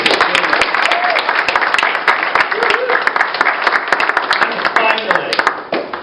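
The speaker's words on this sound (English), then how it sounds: "Can we have a round of applause for Kate?" An awards audience at the JCI Liverpool Awards 2013 bursts into loud, dense applause, steady sharp claps with a few voices mixed in, tapering slightly at the end.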